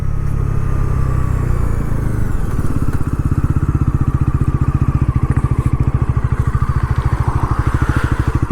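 A Bajaj Pulsar NS400Z sport motorcycle idles low, then revs hard and accelerates with a rapid, crackling exhaust pulse, rising pitch as the quick shifter makes fast gear changes, close and loud.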